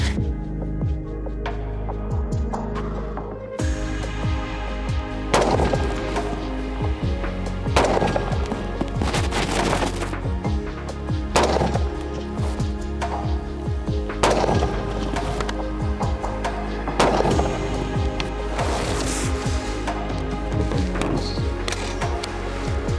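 Repeated shots from a 16-inch AR-15 type carbine fired at a 200-metre target outdoors, sharp cracks coming every second or two with ringing decay, close and loud, no talking.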